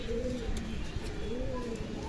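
A pigeon at a bird market coos in soft, repeated rolling calls, moderately close, over a busy, noisy crowd background.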